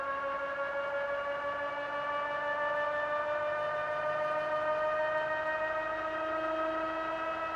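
A hub motor on a bench, rated as a 1,000 watt ebike motor, whines steadily with a strong tonal hum, its pitch gently rising and settling as it runs through its speed range, continuous and fairly close.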